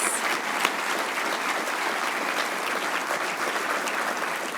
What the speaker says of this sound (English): let's give all of our winners another round of applause.